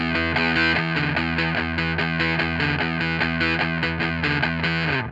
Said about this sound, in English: Sounds almost like a broken radio speaker.